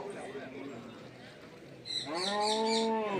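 At a crowded buffalo market, a buffalo lets out a long, deep, close low that follows a stretch of people talking.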